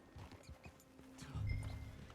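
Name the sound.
horse hooves in video game Red Dead Redemption 2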